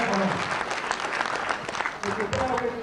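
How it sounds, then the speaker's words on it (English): Crowd applause fills the hall after a professional wrestling contest, dense steady clapping throughout with cheering voices mixed in and a brief dip near the end. "A round of applause for Steve Gray"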